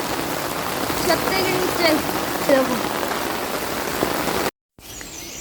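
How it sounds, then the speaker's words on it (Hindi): Steady rain patters on a rooftop during stormy hill weather, a dense close hiss with scattered drop taps and a faint voice under it, then a brief cut to silence before the rain resumes. "अभी भी थोड़ी थोड़ी बारिश हो रही है"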